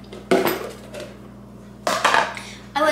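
Bread dough goes into a lidded plastic container, making a few hollow plastic knocks and clatters in short bursts with quiet gaps between them, fairly close.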